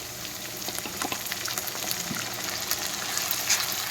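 Garlic and ginger paste frying in a pan for dhaniya chicken, a soft, steady sizzle with crackles and pops, close and alone without talk.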